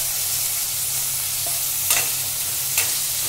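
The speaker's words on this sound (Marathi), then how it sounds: "हा एक अख्खा टोमॅटो मी टाकलेला आहे." A whole tomato frying with onion in a pan makes a steady, loud sizzle throughout, with a couple of brief spatula scrapes or stirs breaking through near the end.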